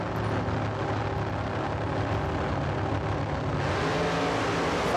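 Drag racing at Ravenswood, with dragsters and funny cars blasting down the track, a loud, continuous engine roar that swells and builds toward the end as the cars accelerate away.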